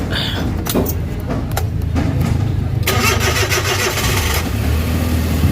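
A rebuilt Suzuki DA64 engine cranks briefly and fires, then runs with a loud, close, slightly rough idle that rises in a short rev before levelling off.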